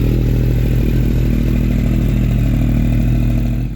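A Yamaha Tracer 9 GT triple-engine motorcycle drones at a steady, loud, close engine note with a dense mechanical rumble and no talking.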